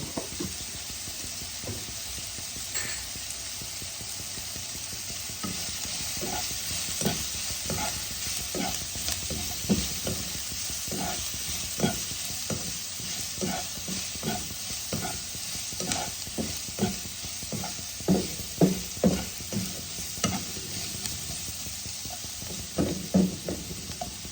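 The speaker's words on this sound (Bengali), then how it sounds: "হাফ চামচ লবণ, আর হাফ চামচ হলুদ দিয়ে পেঁয়াজটাকে আমি ভেজে নেব।" Onion frying in a pan with salt and turmeric crackles steadily while a spatula stirs and knocks in a repeated, quickening rhythm of scrapes and taps, close and clear with no talking.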